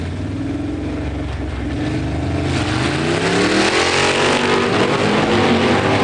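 A 1970 Cyclone 429 CJ four-speed and a 1967 Camaro 396 automatic drag racing on a strip, with loud roaring V8 engines revving and climbing in pitch as the cars accelerate together.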